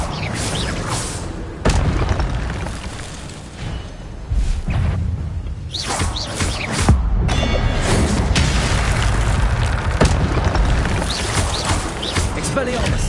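Incendio fire spells are cast in the Hogwarts Legacy video game, producing repeated loud whooshing bursts and booming impacts over a game soundtrack, with a voice calling out spell names between blasts.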